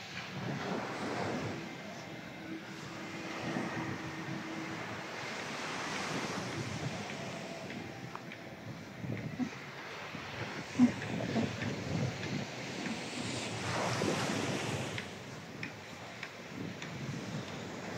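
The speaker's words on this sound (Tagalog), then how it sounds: "makinig pa po tayo ng kaunti sa hampas ng alon at nakaka-relax po" Ocean waves crash and wash onto the shore along the Bataan coast. The surf is a continuous broadband roar that swells and falls, with gusts of wind buffeting the microphone and no talking.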